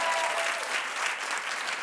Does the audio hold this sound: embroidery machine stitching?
no